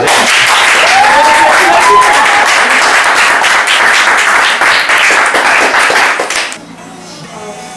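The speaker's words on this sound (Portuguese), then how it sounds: "Palmas pra ela," Studio audience applause at a Brazilian web show, loud dense clapping that runs steadily for about six and a half seconds, with voices mixed in, then drops away abruptly to a quiet room.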